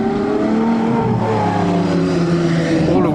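Supercars with custom exhausts, among them a CLK Black Series and a matte black Revuelto, roll out of a car show, their loud, close engines revving and droning with layered exhaust tones that rise near the end.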